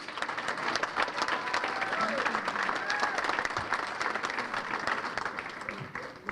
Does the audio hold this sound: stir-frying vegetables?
no